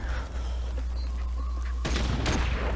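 A new assault rifle fires in Modern Warfare Remastered multiplayer: a loud, dense burst of rapid gunfire over a constant low rumble, with heavier shots near the end.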